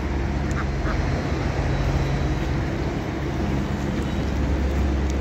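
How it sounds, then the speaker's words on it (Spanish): Ducks quacking along Paseo Santa Lucía, a riverside walkway, their calls faint and scattered over a steady wash of outdoor noise and low rumble. "Estos patos andan aquí en el Paseo Santa Lucía."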